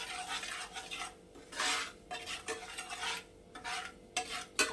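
Spice masala is fried on low flame, a soft sizzle under repeated scraping and clinking of a spatula against the pan in uneven bursts, close by.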